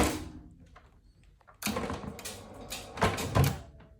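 A Sofermi Bornéo motorised garage door runs with a steady mechanical rumble and rattle, followed by a few louder knocks and thumps near the end, close and alone without speech.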